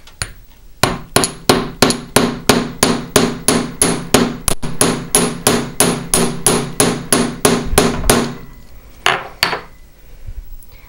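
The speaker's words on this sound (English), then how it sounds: "I'm gonna splay this end out to form a paddle shape." A hammer flattens the end of a jewellery wire into a paddle shape, striking metal in a fast, even series of about thirty sharp ringing taps. The blows stop near the end, followed by a few scattered taps.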